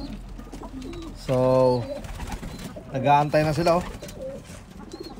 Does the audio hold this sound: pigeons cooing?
yes